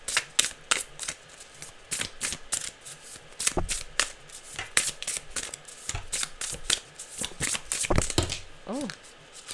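Tarot cards being shuffled by hand during a spiritual reading, a dense run of crisp riffling snaps and soft slaps repeating steadily at close range, with no talk over it.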